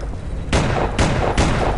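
Gunfire in the video game E.Y.E Divine Cybermancy: three loud, close bursts of shooting spaced about half a second apart, each a broad crackling blast, with no speech.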